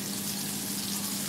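Chopped small shallots hit hot oil for fenugreek rasam, giving a loud, steady close sizzle and frying hiss with no talking.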